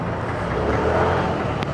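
Road traffic near a church exit in Quezon Province, Philippines, a dense, steady rumble of nearby engines and tires at moderate level, brief and continuous without distinct passes.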